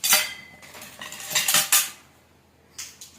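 A metal dish and other utensils are packed into a hospital delivery bag, giving several bright metallic clinks and clatters in irregular bursts, close by with no talking.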